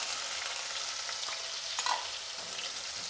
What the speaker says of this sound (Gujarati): ડુંગળીની કચાશ જતી રહે ત્યાં સુધી આપણે ડુંગળી સાંતળી લઈશું